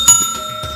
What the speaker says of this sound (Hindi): और घंटी भी बजा दो।